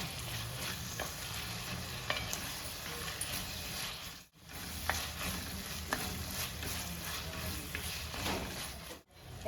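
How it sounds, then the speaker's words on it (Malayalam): Onions and tomatoes sauté in a pan for a Kerala-style beef red curry, a steady close sizzle with scraping stirs and clicks that drops out briefly twice. "നമ്മുടെ സവോളയും തക്കാളിയും എല്ലാം നന്നായിട്ട് തന്നെ വഴണ്ട് വന്നിട്ടുണ്ട്"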